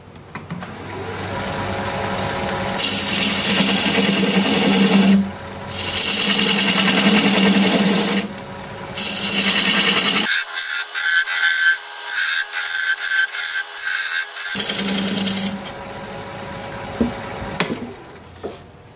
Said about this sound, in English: Guess we'll go with the tenon, and for that I'll use a 1/2 inch bowl gouge.